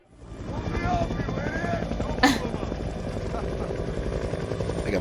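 A helicopter from an action movie scene thunders with constant rotor chop, loud and close throughout, with a brief sharp burst midway.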